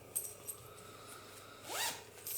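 A little zipper with a square ring and pull tag on a small crocheted bag gives one quick rasping pull near the end, close and fairly quiet, with faint handling rustles before it.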